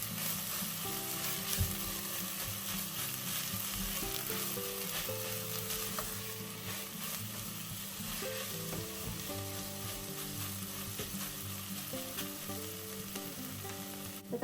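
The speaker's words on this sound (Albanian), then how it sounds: "do t'i skuqim temperaturë të ulët" Soup ingredients fry gently at low heat in a pan, giving a steady, continuous sizzle for the whole stretch with faint tonal sounds underneath and no talking.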